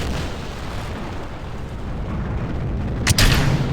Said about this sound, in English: And we have liftoff.